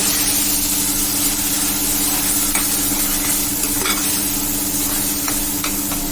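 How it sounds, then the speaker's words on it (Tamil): Masala paste sautés in hot oil with a steady, loud sizzle and scattered stirring scrapes, with a constant low hum running underneath throughout. "அந்த மசாலா எல்லாம் அப்படியே நல்லா வதங்கிட்டோம்"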